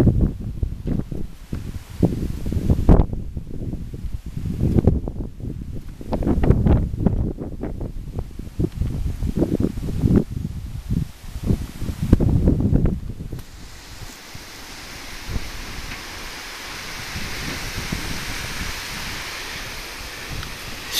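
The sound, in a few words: wind blowing outdoors in a backyard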